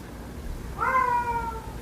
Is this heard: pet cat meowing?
yes